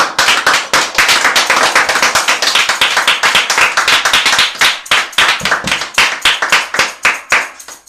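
A church congregation at a thanksgiving service claps in steady rhythmic unison to acclaim Jesus, loud, dense and sustained, many hands together for several seconds before trailing off.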